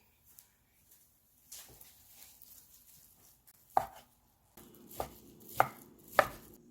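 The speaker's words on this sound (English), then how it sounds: "And you can slice them very thinly. Then start slicing." Knife slicing thin pieces of Spam kimbap ingredients on a cutting board, a few scattered cuts and then four sharp, evenly spaced chops, close and crisp with no talking.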